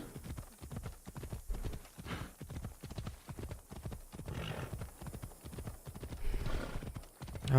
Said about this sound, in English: Go, my faithful steed.